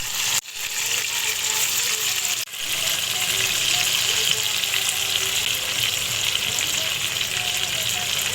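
Paneer satay pieces and vegetables fry over a very low flame in white oil in a wok, giving a steady, close sizzle that runs throughout with two brief dips.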